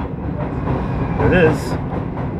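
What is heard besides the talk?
Amtrak Adirondack passenger train passing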